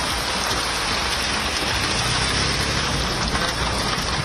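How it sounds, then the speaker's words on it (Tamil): Heavy rain pours steadily in Chennai, a dense, continuous roar of falling water that stays loud and even throughout, with no voices present. "இடங்களில் திடீரென மழை வெளுத்து வாங்கியது"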